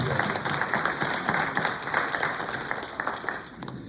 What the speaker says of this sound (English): Let's have a nice round of applause for the many people.